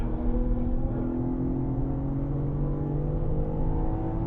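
A BMW M car at full throttle on the Sonoma Raceway track, its engine note holding loud and close with a steady, slowly rising pitch and no pauses.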